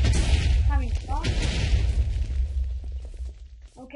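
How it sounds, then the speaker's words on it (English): A Minecraft explosion, played with a No Cubes mod, booms loudly at the start and rumbles on, with a person talking over and around the blast. "Okay, here's the explosion."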